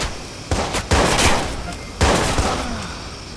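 Gunfire in the video game Watch Dogs: several sharp bursts of shots, close and loud, with voices shouting in between.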